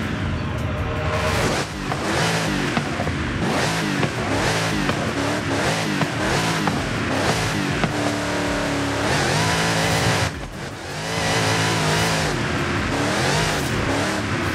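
On a drag strip, an 1100 HP, 7-litre V8 in a 916 kg rear-wheel-drive car on drag tyres roars hard and close while accelerating, a loud sustained engine howl that dips briefly at gear changes.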